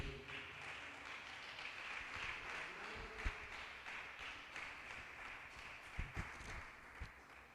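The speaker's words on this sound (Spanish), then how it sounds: "Denle un fuerte aplauso al Señor Jesucristo." Faint church congregation applause with scattered claps continues steadily, heard from a distance, with a few sharper taps standing out.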